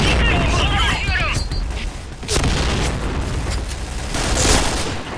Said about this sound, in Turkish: Dikkat, dikkat, bomba atıyorum.